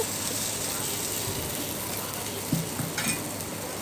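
Ragi flour batter in a small oiled pan gives a steady close sizzle with a few clinks and scrapes of a ladle against the pan, and no one speaks.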